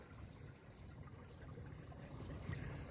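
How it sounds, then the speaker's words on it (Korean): Meltwater trickles beneath very thick ice in a mountain stream valley, a faint, steady gurgling wash with a low, even murmur and no voices. "얼음물 속에서는 물 흐르는 소리가 쫄쫄쫄쫄 많이 들리고 있어요."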